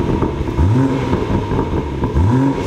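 A BMW M240i fitted with a Quicksilver exhaust, valve closed, gives two quick, fairly muted revs over a steady idle, each a short rising blip of engine noise.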